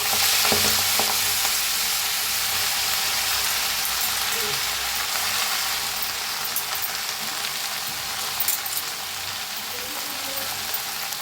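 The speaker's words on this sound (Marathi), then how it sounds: "आता ह्याच्यात टाकूया भाजी ही कापून घेतलेली मेथीची" Chopped fenugreek leaves and garlic sizzle and crackle steadily in a hot pan, a dense close frying hiss with occasional stirring scrapes and no talking.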